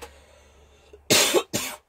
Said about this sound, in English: apparently me coughing